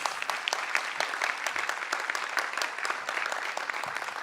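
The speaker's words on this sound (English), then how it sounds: "So let's give her a round of applause, please" An audience in a renovated college auditorium in Washington, D.C. claps for the mayor, a fairly faint, even patter of many hands continuing for a few seconds.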